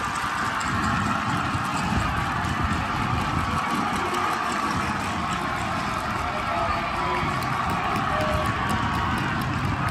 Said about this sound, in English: the Yeovil crowd go wild